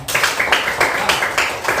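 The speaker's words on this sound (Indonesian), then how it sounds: "Tepuk tangan buat Salman." Children in a classroom clap for a classmate, a short burst of rhythmic group claps with a loose repeating beat lasting under two seconds, fairly close and moderately loud.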